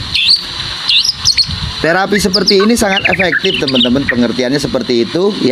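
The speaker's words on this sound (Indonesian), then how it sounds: "teman-teman bisa lihat di sini burungnya itu langsung bunyi" A white-rumped shama (murai batu) sings loud, close, varied whistled phrases and rapid warbling trills, with someone talking over the start of the song.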